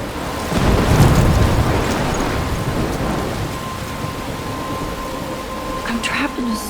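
Thunder rumbles over steady rain during a storm in the video game Life is Strange Remastered, swelling loudly at first and then rolling on, with a brief voice near the end.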